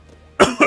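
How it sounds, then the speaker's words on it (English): A man coughs twice in quick succession, a harsh, close burst followed by a second, slightly weaker one, after a brief quiet lead-in. "so I'll be coughing for a while"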